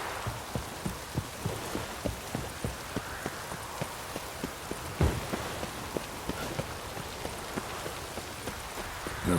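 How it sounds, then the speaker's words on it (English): Rain falling in The Witcher 3: Wild Hunt, a steady patter of drops over the whole stretch mixed with regular soft thumping, like hoofbeats or footsteps, and no speech. "Looks like rain"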